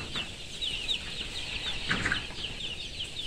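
Days-old baby chicks in a brooder house peep in a continuous high-pitched chorus of small chirps, with a brief louder flutter midway, close and steady against a faint background hiss.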